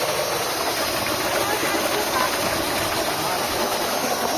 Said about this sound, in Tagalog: Solar pump.